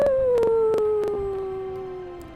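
A person imitates a werewolf howl with a single long, falling, wavering wail, close and loud, fading slowly over about two seconds, with faint clicks behind it.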